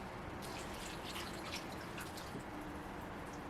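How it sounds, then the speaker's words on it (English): Melted ghee, two cups warmed in a microwave, poured over a dry granola mixture of oats, making a steady soft trickling, dripping liquid sound that runs close and continuous without pause. "I'm gonna pour it over our dry mixture."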